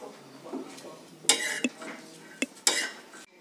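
Dry-roasting chutney ingredients such as coriander leaves, peanuts, ginger and charred tomato in a pan gives quiet stirring scrapes and several sharp metallic clinks of utensil against pan, with no talk.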